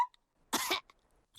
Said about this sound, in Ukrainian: кашель у Педро такий заразний